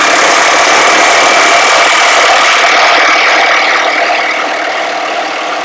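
A Milwaukee M18 tool running on a Forge battery gives a loud, dense, continuous mechanical roar close by. It holds steady for several seconds, then eases slightly toward the end, with no talk.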